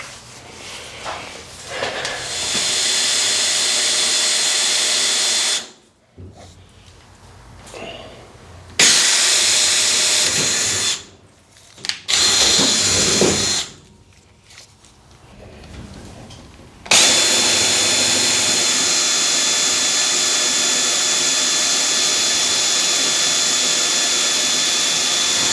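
Power drill enlarging bolt holes, stepping from AN3 up toward AN6 size, in an aircraft engine mount for an RV-7A: a loud steady whine runs in long stretches, broken by several short pauses, with no talking over it.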